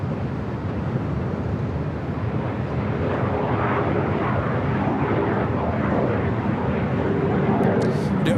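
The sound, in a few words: Sun Country Boeing 737-800 jet departing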